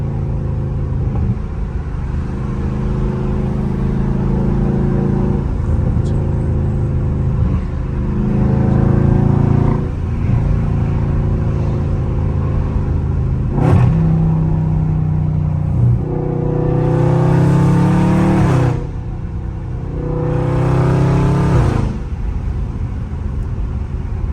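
A loud Dodge Scat Pack downshifting and revving in traffic, its deep exhaust rumble rising and falling through repeated rev blips and gear changes, with sharper roaring bursts toward the end.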